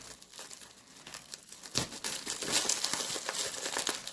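Close, crackling crinkle of plastic packaging being handled and unwrapped, growing busier and louder after a sharp rustle midway.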